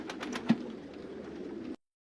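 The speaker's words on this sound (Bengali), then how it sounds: "সুন্দরভাবে কবুতরগুলো বসে আছে" Pigeons cooing inside a large pigeon farm, a low, soft burbling coo that rolls on for under two seconds, close and moderately quiet with a faint breathy texture.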